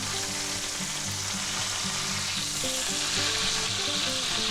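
Sous vide chuck roast sizzling loudly and steadily in a hot pan as it is flipped, a dense close crackle with a burner hum and clinking underneath, no voices.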